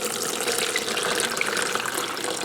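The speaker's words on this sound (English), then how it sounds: "Alright, a container of clear water here. We're going to pour this over." A container of clear water is poured over freshly tumbled crystals to rinse off grit, making a steady, close hiss of running, splashing water for a couple of seconds with no one talking.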